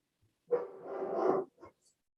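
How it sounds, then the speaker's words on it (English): Dog barking in the background of a home during a municipal public works meeting: a single drawn-out, muffled bark-whine followed by a short second yelp, faint and alone. "I'm sorry that my dog is barking in the background,"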